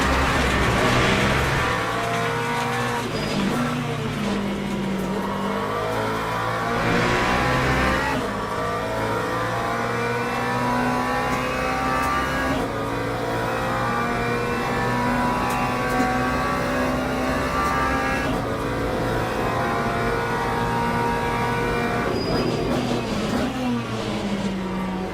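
A McLaren race car in a racing sim revs hard in second gear, its engine rising and falling through repeated accelerations and gear changes, loud and continuous for the whole stretch.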